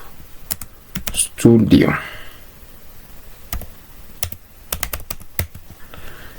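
Keys clack on a computer keyboard in short sparse bursts and scattered single taps, close up, while someone speaks briefly partway through.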